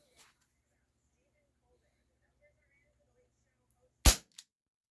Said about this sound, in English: let's just keep shooting. Single and then double again.